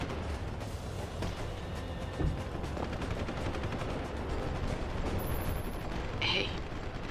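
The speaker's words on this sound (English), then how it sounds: "There's a lot of shooting." Dense, continuous gunfire from a firefight in the video game Deus Ex: Human Revolution, with rapid overlapping shots and mechanical clatter filling the whole stretch at an even, loud level.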